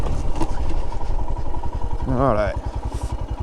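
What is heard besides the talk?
Royal Enfield Himalayan motorcycle engine running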